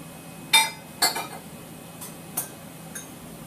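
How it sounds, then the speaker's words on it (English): A spoon knocks against a bowl while fat-free fromage frais is scooped into it: a few sharp, bright clinks spaced apart, the first loudest, then softer taps fading out in a quiet room. "spoon 2 2 to 3 teaspoons of fromage frais into a bowl"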